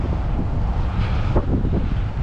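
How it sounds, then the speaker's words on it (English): Strong wind blows through woods, roaring and buffeting the microphone in a continuous loud rumble with occasional heavier gusts. "And it is very windy."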